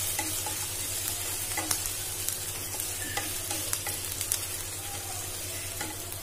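Paneer stir-fried in a pan with ginger paste for chilli paneer, giving a steady close sizzle with scattered clicks of a spatula stirring, over a constant low hum and without speech.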